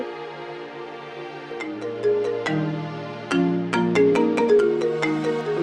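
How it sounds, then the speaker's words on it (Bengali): A mobile phone rings with a bright melodic ringtone, repeating tones that grow louder and busier as it continues, heard clearly indoors with no talk over it. "দেখো তোমার ফোন বাজছে"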